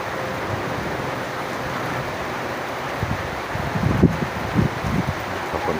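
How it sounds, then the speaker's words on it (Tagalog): Strong wind blowing steadily right after rain, a continuous broad roar with gusts that swell louder toward the end, heard alone without voices. "Lakas na hangin"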